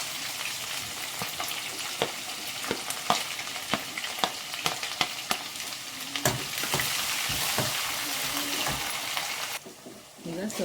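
Chopped onions fry with cumin and mustard seeds in a pan, sizzling steadily up close while a utensil taps and scrapes at irregular intervals, the hiss briefly dropping near the end.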